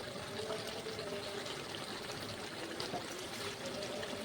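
A little water is poured into a curry whose spices are being fried down: a steady close hiss and trickle that runs unbroken for a few seconds, with no voices.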